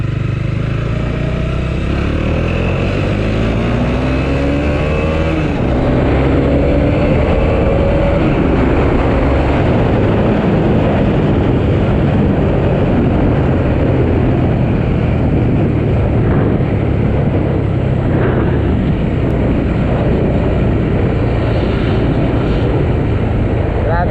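A Bajaj Dominar 400 big bike roars loudly throughout a test ride, a continuous close engine drone with shifting pitch and wind rush and no pauses.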